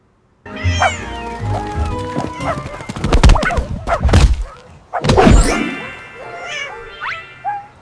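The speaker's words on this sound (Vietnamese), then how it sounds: "mình có một cái video mà đàn chó mèo chơi đùa trong công viên phong cách hoạt hình" Cartoon cats and dogs playing in a park, AI-generated with Google Veo 3, meow repeatedly and loudly near at hand, with bouncy thumps, clip-clop-like patters and playful squeaks between the calls.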